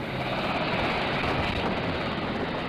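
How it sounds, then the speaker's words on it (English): A Navy Seahawk helicopter departs the aircraft carrier Nimitz, its engine and rotor making a steady, loud, dense roar that holds constant with no pauses or voices. "soon board an HS-60 Seahawk helicopter and leave Nimitz"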